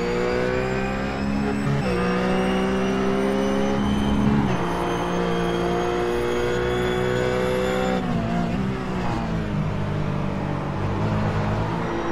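A RUF race car in iRacing at Twin Ring Motegi roars loud and steady, pitch climbing through the gears, then dropping sharply on a downshift under braking before revving up again.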